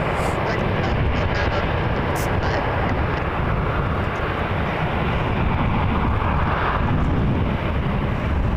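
An Air Canada A320 airliner bound for Winnipeg gives off a loud, steady jet engine roar at Toronto Pearson Airport, with wind buffeting the microphone throughout.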